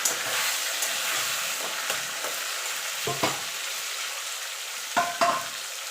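Taro leaves sizzle and fry with coconut and chickpeas in a hot pan, with a steady close hiss and a few scraping stirs of a spatula throughout.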